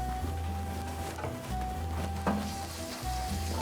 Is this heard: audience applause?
no